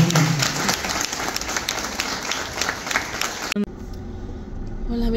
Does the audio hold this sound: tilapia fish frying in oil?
no